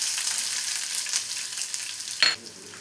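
Chopped shallots sizzling in hot coconut oil with popped mustard seeds for a Kerala-style chicken kurma, a steady bright crackling fry with a brief louder spit near the end, no talk.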